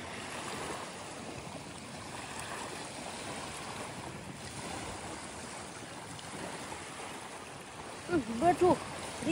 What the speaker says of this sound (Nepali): यही हो हाम्रो मेन समुद्र भनेको चाहिँ।